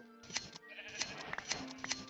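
Sheep in Minecraft bleat several times in quick succession, sharp repeated baas at close range with clicks from the shearing in between and no talking.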